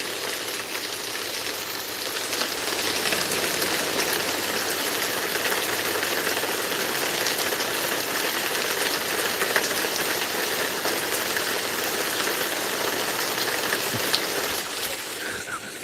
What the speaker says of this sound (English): So I could do the rain sound like this.